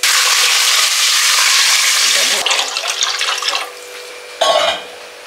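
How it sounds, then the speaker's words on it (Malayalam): Water poured from a measuring glass into a cooking pot for chicken biryani, a steady broadband rush that runs for a couple of seconds, then shorter, fainter splashes and a final brief pour, close by with no talk. "അപ്പൊ നമ്മൾ 4 ഗ്ലാസ് അരി എടുത്തേക്കുന്നതുകൊണ്ട് 8 ഗ്ലാസ് വെള്ളം ആട്ടോ ഒഴിക്കാൻ പോകുന്നത്"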